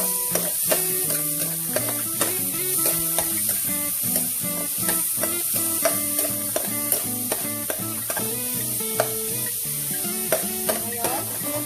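Oil frying in a pan for sotanghon soup, with a utensil repeatedly stirring and scraping in a steady, fairly regular rhythm over a continuous bright sizzle, close and moderately loud, no talk.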